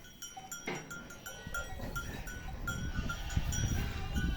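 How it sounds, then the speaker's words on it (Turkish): Goats and lambs on a fattening farm bleat repeatedly at close range, with a bell clanking among the animals and steady barn noise beneath. "Aynı zamanda besi aldığımız kuzularla oğlaklarımız var."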